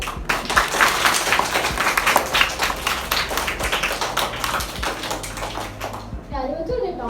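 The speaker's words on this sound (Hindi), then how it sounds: "सारे बच्चे जोरदार से क्लैपिंग करेंगे।" A crowd of schoolchildren at a campus story-time event claps loudly, producing dense, sustained applause that carries on steadily before thinning out near the end.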